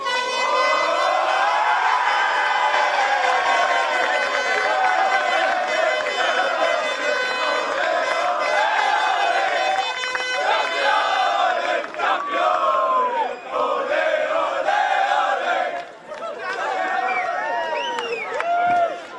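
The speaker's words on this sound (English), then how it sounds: "What an amazing crowd." A large stadium crowd of about 1,255 cheers and roars continuously as Lions FC are presented as 2026 Kappa Pro Series Men's Champions after the final against Brisbane City, with an amplified voice and music mixed in.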